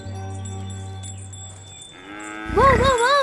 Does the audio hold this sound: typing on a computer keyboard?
no